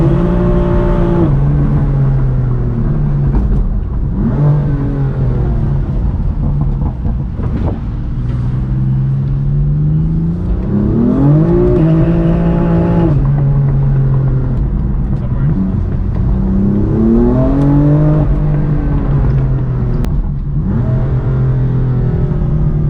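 BMW M4 engine revving hard with stability and traction control switched off, rising and falling in repeated bursts through the full stretch, loud and close from inside the cabin.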